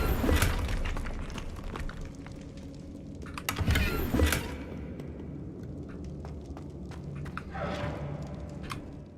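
Crackling ice-spell bursts from Glacius and other spells cast in the Hogwarts Legacy game, with sharp shattering hits near the start, middle and end over a steady bed of game ambience and music.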